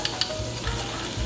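Butter sizzling in a pan with garlic, basil and sage, a close, soft crackle with light stirring clicks over a brief stretch, no voices.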